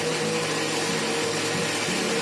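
A mixer grinder runs steadily, grinding cooled masala with a little water into paste for Nawabi paneer, a continuous loud motor whir with no pauses and no one talking.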